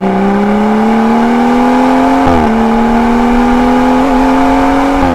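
A car engine revs steadily and loudly, pitch climbing gradually with a brief dip as it shifts gears, close and continuous.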